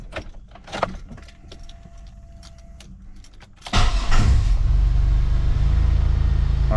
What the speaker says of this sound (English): So you're going to hear the idle basically rev up by itself.